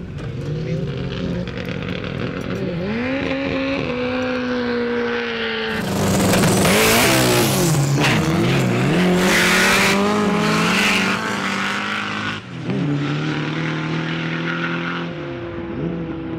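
A drag racing car at the Umeå Open drag strip idles and revs before launching with a loud, roaring burst of acceleration. The roar holds for several seconds, then drops back to a rumbling idle.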